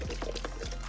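Gas antifreeze pours from a bottle in a short, close, gurgling stream, alone with no talk.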